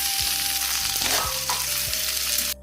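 Ridge gourd frying in hot oil in a wok, tempered with dried chilli and black cumin, giving a steady close sizzle with a few stirring scrapes and clinks throughout.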